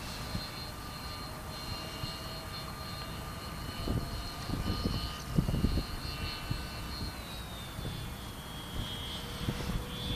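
A Bixler 2 FPV model airplane flies overhead, its electric motor giving a steady, thin whine that shifts pitch partway through, with gusty wind noise beneath it.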